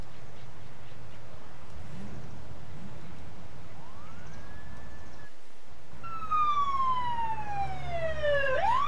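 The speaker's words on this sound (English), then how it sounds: "I like the siren a lot." A police siren in the Emergency 4 video game sounds continuously, with steady road rumble underneath and a strong wailing sweep that rises and falls loudly in the final seconds.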